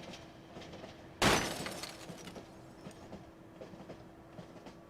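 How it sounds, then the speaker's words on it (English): Inside the video game Cry of Fear, a sudden burst of glass shattering erupts aboard a rattling train, loud and abrupt, then fades into the steady clatter and hum of the rail car. "Simon's moment of contemplation is broken by the sound of glass shattering somewhere on the train."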